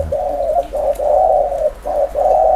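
A decoy spotted dove coos close by: a series of soft, rolling hoots in quick phrases with short pauses between them, over quiet background.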